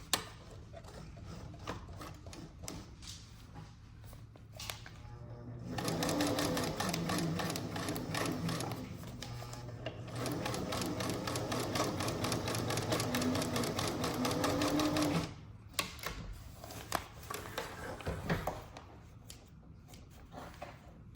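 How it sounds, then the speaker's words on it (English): A sewing machine stitches down the side of a cloth diaper with elastic, running steadily for about ten seconds between quieter handling noises and short starts and stops. "I'm going to now sew this side into place."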